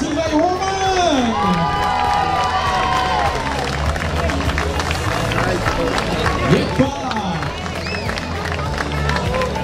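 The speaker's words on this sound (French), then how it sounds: "on peut les applaudir une dernière fois, s'il vous plaît, mesdames et messieurs" A crowd at a triathlon in Villevêque cheers and claps throughout, mixed with music and an announcer talking over a busy, loud scene.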